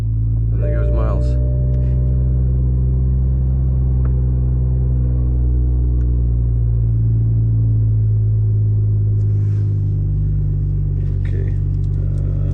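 An MKV car's engine idles steadily after a push-button start, a loud, continuous low rumble close by that holds for the whole stretch while a person talks over it.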